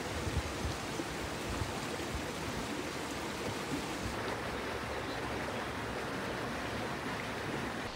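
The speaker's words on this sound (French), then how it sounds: "En contrebas, tu as une magnifique rivière." Steady broadband rush of a river flowing below a quiet mountain road in the Cévennes, continuous and fairly soft, with no voices.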